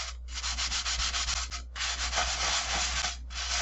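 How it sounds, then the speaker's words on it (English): A wet sponge scrubs a burnt pot with lemon juice and sand, giving loud, gritty rasping strokes in two long bursts separated by brief pauses, with a low steady hum underneath. "with our wet sponge, just going to start scrubbing this"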